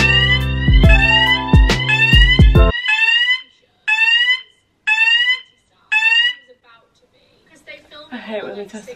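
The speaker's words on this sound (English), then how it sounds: "hate when they test the fire alarm." A fire alarm under test sounds in repeated loud, rising electronic whoops, first layered over a louder tone, then as four separate bursts with silent gaps, before fading into faint background noise.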